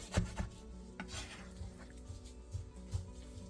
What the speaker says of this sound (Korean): 묵은지 4분의 1포기를 먹기 좋은 크기로 잘라주세요.